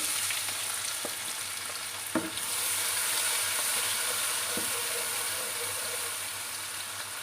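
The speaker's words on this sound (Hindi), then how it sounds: "ज़ीरा, दालचीनी और ये मोटी इलायची फ्राई हो गई है। अब हम इसमें प्याज डालेंगे।" Cumin, cinnamon and black cardamom sizzle in hot oil, then a clatter as onions drop in and the frying surges into a louder, steady hiss that continues without talk.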